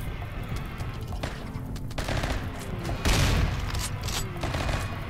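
Gunfire in a Rimworld battle, rattling bursts of shots with a heavier boom partway through, loud and continuous with almost no talk.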